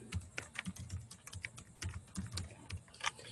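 Rapid typing on a computer keyboard while entering marketing tags, with a steady stream of close, crisp key clicks in uneven bursts and no talking.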